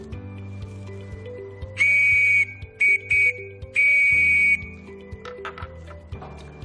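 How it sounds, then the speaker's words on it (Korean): A shrill whistle is blown in four sharp blasts, two longer ones framing two quick short ones, loud and close. "한번 호루라기로 불어보도록 하겠습니다"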